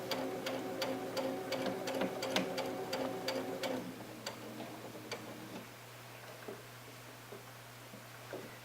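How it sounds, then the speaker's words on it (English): A sewing machine slowly stitches an invisible zipper into a doll dress, a close run of quick ticking stitches for about four seconds, then sparse, slower clicks with a faint hum beneath. "We're just going to take our time and go right along those teeth."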